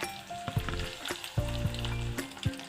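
Chopped onion sputters and crackles as it fries in hot oil, with sharp pops and snaps breaking over a steady close sizzle.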